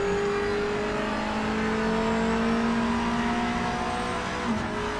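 Mazda MX-5 engine in a racing video game, a steady droning whir held at a constant pitch with a slight rise, moderately loud and alone with no voices.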